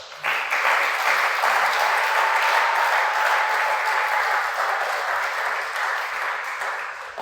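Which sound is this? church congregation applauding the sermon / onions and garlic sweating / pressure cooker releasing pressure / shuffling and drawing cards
church congregation applauding the sermon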